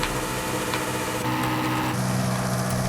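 Ford Raptor R truck with an upgraded exhaust in Forza Horizon 5, a steady engine drone at idle or low revs, continuous and fairly loud with a slight shift in tone partway through, no talking.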